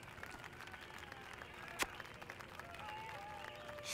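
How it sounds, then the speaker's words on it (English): Steady crowd applause and cheering in The Simpsons Game rolls on in the background, a continuous wash of clapping with a sharp clap standing out. "I just can't hear you over the roar of this appreciative crowd"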